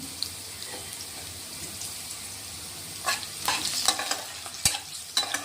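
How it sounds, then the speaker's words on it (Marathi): Asafoetida dropped into hot oil in a pan while cooking a Maharashtrian poha breakfast; a soft, steady sizzle runs under clattering stirring and utensil clinks that grow louder in the second half. "तेलातच हिंग टाकतोय आपण."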